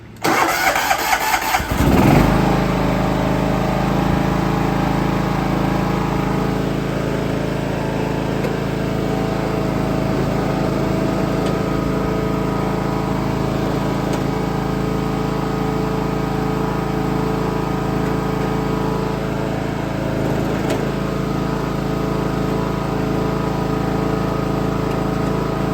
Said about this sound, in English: I'm gonna try to give it a start and see if it goes in reverse and then in drive